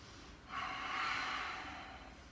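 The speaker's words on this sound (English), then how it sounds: "Take one more breath." One slow, deep breath is drawn in and released during a leg stretch at a wall. It is soft and close, a single breathy swell lasting about a second and a half in a quiet room.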